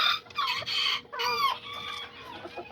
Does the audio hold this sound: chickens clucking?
yes